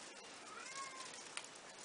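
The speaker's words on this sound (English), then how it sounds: "kitty cat." A house cat gives a soft, drawn-out meow, faint and somewhat distant, over a steady background hiss, with no talking.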